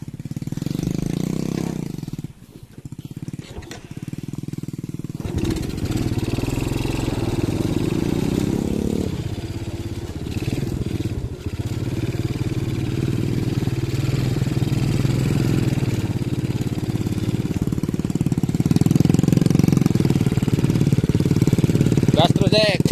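A small motorcycle engine runs and revs close by, a loud steady rumble that rises and falls over the whole stretch while people talk over it.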